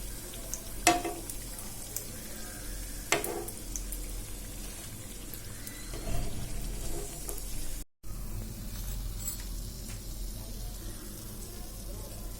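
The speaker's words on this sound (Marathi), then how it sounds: "त्या प्रकारे आता दुसरेही मी तळून घेते." Cutlets frying in hot oil give a steady close sizzle with crackling pops, broken by a few sharper clatters as pieces are turned or lifted, with a brief gap near the middle.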